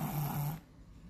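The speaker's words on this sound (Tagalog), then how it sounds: "Pero ngayon, grabing halak niya." A sleeping child snores heavily, a deep rattling rasp in a steady rhythm of two close, loud breaths, then fading to quiet breathing; no talking.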